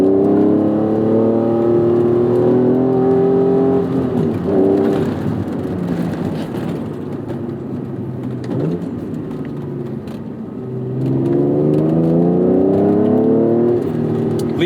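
A 1992 Acura NSX engine revs hard up toward its 8,000 RPM redline on a canyon road, climbing through the gears, easing off briefly in the middle, then rising again, loud and close, with no talk.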